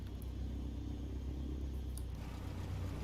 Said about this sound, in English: there's a lot of noise of the tail that's dragging